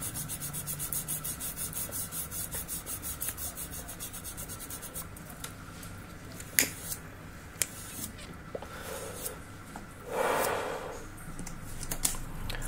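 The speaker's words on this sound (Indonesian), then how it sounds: "wet sandingnya gue pakai lemon oil, pakai amplas halus" Steady rhythmic wet sanding of a guitar neck with fine sandpaper and lemon oil, close and continuous, with a few sharp knocks and a brief louder scraping burst near the end.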